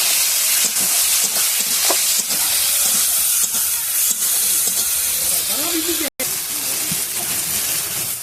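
Green peas fry in spice paste in a pan, giving a loud, constant sizzle and hiss with occasional stirring scrapes. The sound cuts out for a split second near the end.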